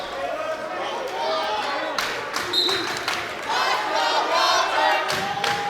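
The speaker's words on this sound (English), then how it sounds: "You hear the Cooper crowd behind us, Jay, chanting, "Let's go, Walter."" A high school wrestling match crowd fills a gym with loud, sustained cheering and rhythmic chanting, with a commentator talking over it and occasional thumps from the mat.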